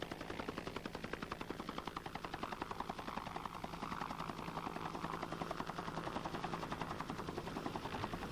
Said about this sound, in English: Once the helicopter is in a hover,